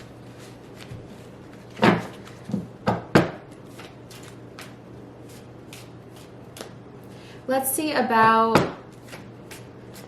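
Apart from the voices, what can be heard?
shuffling tarot cards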